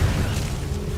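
Confringo fire spell from Hogwarts Legacy bursting in a short low booming blast that rumbles and fades within a second.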